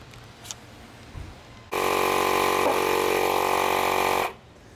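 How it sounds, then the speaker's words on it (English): Portable electric air pump inflating a plugged tire on a Lexus RC F wheel, a steady mechanical buzz that switches on abruptly, runs evenly for a few seconds close by, then cuts off. "Alright, I said pump it as much as you can,"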